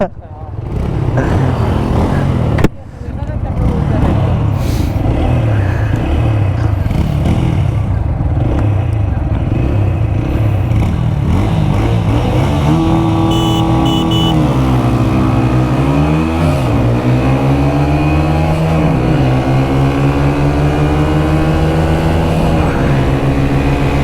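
Two motorcycles, a 2026 Bajaj Pulsar N160 and an older TVS Apache 160 4V, in a performance test. Their engines drone and rev loudly and continuously, with rising and falling pitch sweeps as they accelerate and shift.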